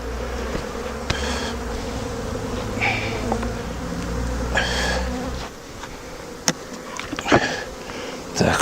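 Honey bees swarm and buzz loudly around an opened hive, a dense continuous drone close by with individual bees whizzing past, thinning slightly toward the end.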